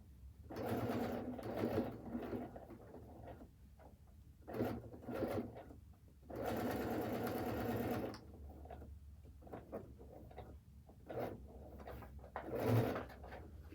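A sewing machine hems a pair of jeans in several loud bursts of stitching, each running a second or two, with a longer run in the middle and quiet pauses between them.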